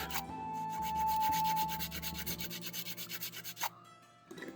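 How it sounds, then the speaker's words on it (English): Steady abrasive rubbing of sandpaper on a small hard dune buggy model car part, continuous strokes for several seconds, then a few brief scrapes near the end. "So I need to just sand this at least a little bit to get some grip."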